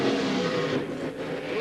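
Off-road Pro 2 and Pro 4 race trucks roaring at a desert track in Primm, Nevada, a loud continuous engine drone with rising and falling revs as they race close together.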